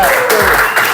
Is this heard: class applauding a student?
yes